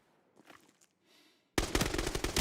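Gunfire in the video game Arena Breakout Infinite bursts in suddenly after quiet, a loud, dense automatic volley of rapid shots sustained to the end.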